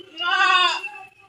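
A single goat bleats once, a loud, close, wavering cry lasting about a second at an outdoor village food-making scene, with no talk over it.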